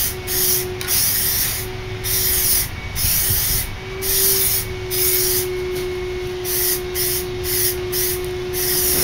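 Spray gun applying fire red paint to a Corvette body, a steady close hiss with a compressor-like drone underneath, broken by short rhythmic pauses as the trigger is released and pressed again.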